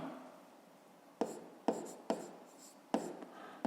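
A pen writes by hand on paper during a math exercise, a few short sharp scratching strokes standing out close and distinct against a quiet background, with no talking.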